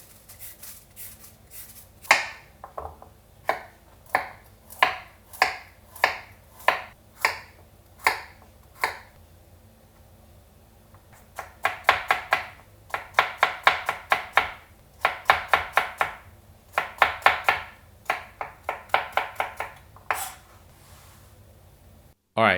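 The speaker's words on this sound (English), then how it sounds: "let's peel and cut our carrot. And basically we're just going to julienne slice this into about 1/8 inch thick sticks" A knife julienne-slices a peeled carrot into thin sticks on a cutting board for sushi prep, tapping in quick rhythmic bursts of crisp chops with brief pauses between runs, close and clear.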